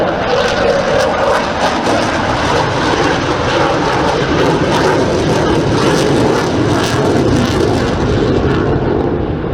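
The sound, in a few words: military aircraft flying at airshow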